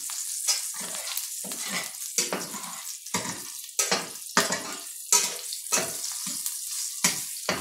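Whole spices and slit green chillies fry in a pan for a home-style egg and ridge gourd curry, making repeated bursts of loud crackling sizzle and stirring scrapes, close up, with no voices.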